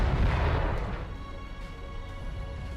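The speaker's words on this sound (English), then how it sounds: "We've got here United Kingdom artillery firing away at 12-pounder." Twin 12-pounder field guns firing in a Napoleonic battle game, a heavy booming blast up front that settles into a rumbling, echoing tail with steady battlefield ambience underneath.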